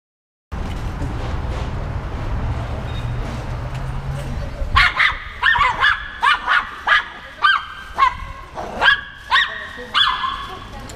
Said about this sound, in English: walking by a dog, literally losing its mind